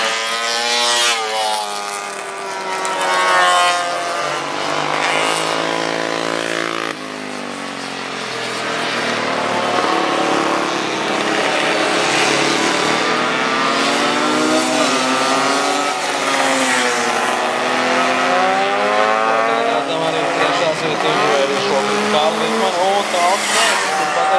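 Retro motorcycles race on the Biķernieki road circuit, their engines whining loud and continuous, pitch climbing and falling with each gear change and pass.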